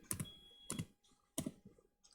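Keystrokes on a computer keyboard as someone types a search term on a Windows 10 PC: three short, close clusters of clicky key presses separated by brief pauses, with no talking.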